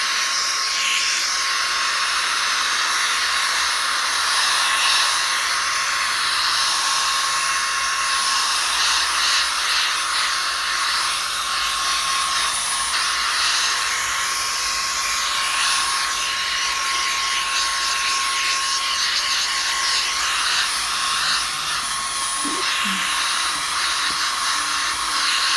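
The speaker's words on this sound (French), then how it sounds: "Je vais allumer juste aspirateur. Je vais la mettre sur F2 et je vais aspirer." A sander's built-in vacuum extraction runs at its F2 setting, giving a loud, steady whirring hiss that holds unbroken for the whole stretch with no talking.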